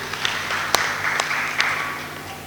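Applause from the audience at a Nairobi SACCO annual general meeting, a steady wash of clapping with a few sharper claps standing out, moderately loud and continuous throughout, with no talking over it.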